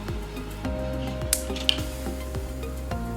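Capsicum sizzles steadily in a hot pan of beef biryani masala with tomato, a continuous close frying hiss under occasional soft stirring clinks.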